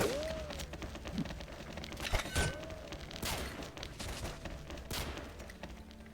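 Rapid bursts of gunfire in the video game XSHOT crackle in quick volleys, several sharp shots spread across the stretch at moderate volume.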